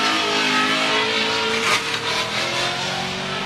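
V8 drift cars at a Formula Drift round in Miami roar in a loud, sustained engine drone with a surge midway, dense and continuous throughout with no voice over it.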